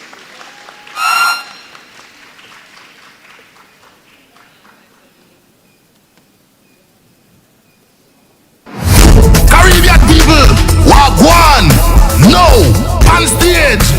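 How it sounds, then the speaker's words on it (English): Audience applause for visiting Colombian guests at a student awards ceremony bursts in loud and sustained after a quiet stretch, a dense wall of clapping filling the rest of the clip, preceded by a brief sharp sound near the start. "Could you give a round of applause to our Columbia guests?"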